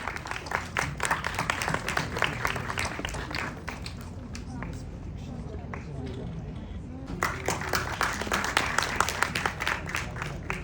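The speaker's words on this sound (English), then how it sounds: "Give a huge round of applause." Seminar audience applauding in a hall, a dense roll of clapping that fades mid-clip and then swells again, fairly loud and close throughout.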